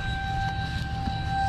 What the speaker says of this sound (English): So somebody asked one time about that siren.